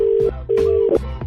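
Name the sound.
telephone being dialed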